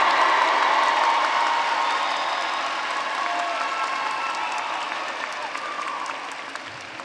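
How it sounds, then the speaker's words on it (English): A large crowd at the Virginia Peninsula Community College 2024 commencement applauds families, friends and loved ones. The thick, continuous clapping starts loud and slowly thins and quiets over about seven seconds. "give a loud sound of applause to all the families and friends and loved ones with you today"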